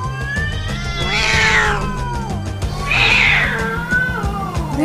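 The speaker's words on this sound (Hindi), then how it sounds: "अरे बिल्ली है वो।" A cat meows at night in two drawn-out, wavering cries, loud and close over a low steady background hum.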